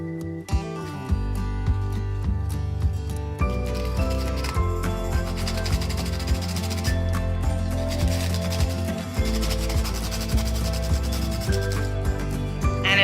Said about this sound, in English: So it says to sand this.